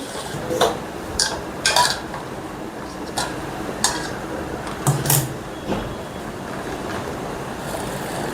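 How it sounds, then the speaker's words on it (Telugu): Jaggery and water being stirred in a pan while cooking bellam garelu: soft, irregular scraping and clinking of a utensil against the pan, moderately close, over a steady hiss of background noise. "ఇలా మొత్తం బెల్లం కరిగే వరకు కలుపుతూ ఉండండి."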